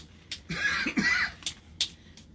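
A person coughs after tasting spicy food, a cluster of harsh, raspy coughs and throat-clearing bursts in quick succession, close to the microphone, followed by a few sharper isolated hacks.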